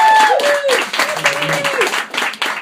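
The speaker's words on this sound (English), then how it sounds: "Clap it up" Audience applause at a comedy show, a steady wash of clapping with a tonal musical line running over it.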